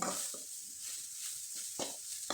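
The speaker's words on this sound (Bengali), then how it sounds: "চুলার আঁচটা একবারে লো করে দিয়ে এগুলো সব কিছু উপকরণ মিশিয়ে নিতে হবে।" A spoon scrapes and stirs veg momo filling in a pan over low heat, a few soft intermittent scrapes over a faint sizzle, close and quiet.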